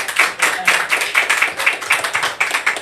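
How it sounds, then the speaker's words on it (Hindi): An audience claps unevenly, the soft flat-handed slaps coming in a loose, irregular rhythm close by, with no talking over it. "जो ताली बजा रहे हैं ऐसा लग रहा है कि चपाती बना रहे हैं"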